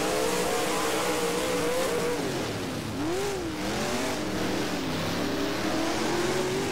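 Late model race cars in the rFactor racing game roar around the Bedford oval, a loud continuous engine drone whose pitch rises and dips as the cars accelerate and lift through the turns, with no talk.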